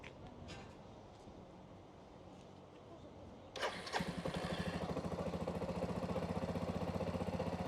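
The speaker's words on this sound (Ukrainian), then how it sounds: "Все, мотоцикл заведений." A 2009 Suzuki Bigboy Grasstracker 250 motorcycle engine cranks and catches, then settles into a loud, steady, rapid idle that continues to the end.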